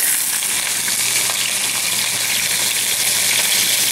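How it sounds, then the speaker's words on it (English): Steady, loud sizzling and crackling of chicken thighs browning in hot oil in a frying pan, continuous throughout. "I have a frying pan over here with a little bit of oil in it. And I'm just going to brown both sides"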